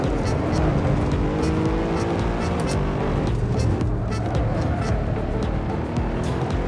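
A modern hatchback road car laps a race track, drifting wide through a corner, its engine droning loud and close with continuous tire and wind roar, unbroken and steady.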